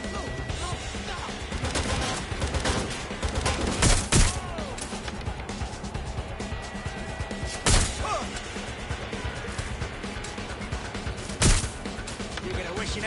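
Gunfire from the video game Watch Dogs: Legion: a dense, continuous crackle of shots with louder blasts standing out about every four seconds.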